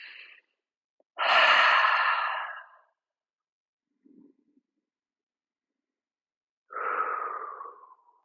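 Slow, deep breaths drawn and released during a low back pain stretching session, a long close exhale followed by silence, a faint rustle, then another audible breath.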